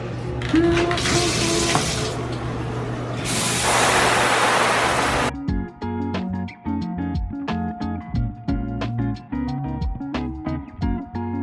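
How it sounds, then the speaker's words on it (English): Water sprays steadily from a shower for several seconds, loud and close, then cuts off and gives way to music. "So yeah, okay, let's take a shower."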